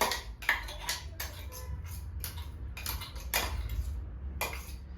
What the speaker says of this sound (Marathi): आता आपण जी मिरची बारीक करून घेतली होती ती मिरची मिक्स करायची